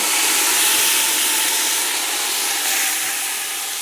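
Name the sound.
oil poured back into a hot pan for lamb tagine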